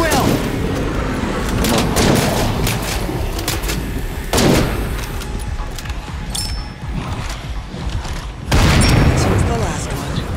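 Gunfire in the State of Decay 2 video game, sharp blasts and bursts of heavy weapon fire going off repeatedly across the clip, with players talking over the shooting.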